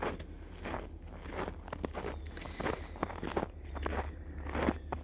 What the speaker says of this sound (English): we can both hear my footsteps so audibly.